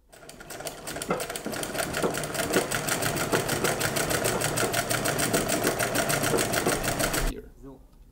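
A sewing machine runs steadily, topstitching a detachable shirt collar, with a fast, even mechanical rattle lasting several seconds before stopping abruptly, close by with someone talking over it.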